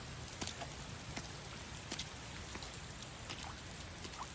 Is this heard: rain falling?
yes